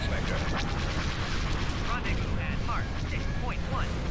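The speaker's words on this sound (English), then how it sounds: "they're still firing proton torpedoes at me from the starbase" Proton torpedoes fired from a starbase in the Star Wars space strategy game Empire at War thump and boom in a dense, continuous barrage of space-battle noise, with faint whistling streaks over a low rumble and a voice talking underneath.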